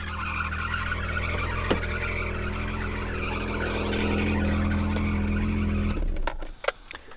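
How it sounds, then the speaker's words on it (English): A 1989 BMW E30 325i engine idles with a loud, steady, high-pitched belt squeal that holds unbroken, then cuts out abruptly near the end as the engine is switched off. "you can hear the large amount of belt squeal coming from there"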